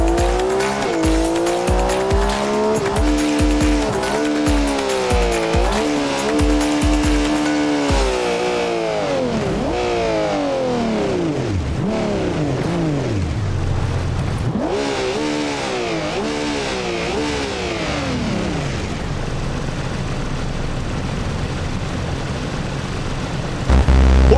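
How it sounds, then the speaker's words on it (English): A Porsche GT3 in BeamNG Drive races down a dangerous downhill track, its engine repeatedly revving up and dropping through gears with some tire squeal. The sound stays loud and continuous, with a harsh thump at the very end. "Let's see how our next vehicle, the Porsche GT3, will perform."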